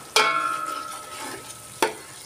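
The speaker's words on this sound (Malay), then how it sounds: "kita bagi rempah kita masak" Sizzling and stirring of spice paste in a hot pan, cooked with water for Mee Rebus Johor, with two sharp scraping strokes of a utensil over a steady frying hiss.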